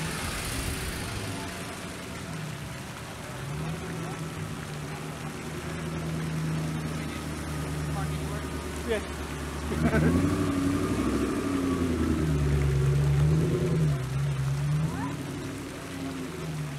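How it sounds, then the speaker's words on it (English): A car passes outside an exotic car gathering, its engine rumble building and swelling to a louder pass around the midpoint, with low idling and background chatter throughout. "there's a car coming, so I'll let you listen"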